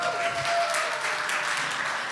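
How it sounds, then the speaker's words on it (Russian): Brief audience applause after an advertising talk, a short, moderately loud patter of clapping with a faint tone running beneath it. "Мне кажется, тройная порция аплодисментов тут нужна, нет?"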